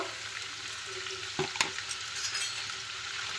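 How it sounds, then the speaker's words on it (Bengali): Carrot pieces frying in hot oil in a pan, a steady, fairly soft sizzle with a brief clatter of a spatula midway, no speech. "তেলটা গরম হয়ে গেছে এখন আমি গাজরগুলোকে দিয়ে দিচ্ছি আগে আমি গাজরটাকেই ভেজে নেব"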